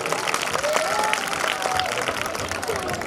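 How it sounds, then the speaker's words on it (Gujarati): Audience applause at a school annual function after a Dangi folk dance, a dense steady wash of clapping from a large crowd lasting throughout, with some cheering mixed in. "ફરી એકવાર ડાંગી નૃત્ય માટે તાળીઓ."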